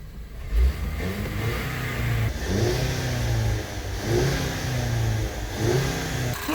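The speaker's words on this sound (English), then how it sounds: "I'm going to rev it a few times to agitate any deposits" The engine of a Ford car getting an 8F35 eight-speed transmission service is revved in several repeated bursts, each rising then settling, loud and close, with no speech.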